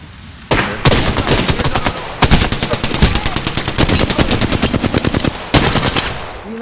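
Rapid automatic gunfire in an online shooter game, long loud bursts of closely spaced shots with short pauses between them.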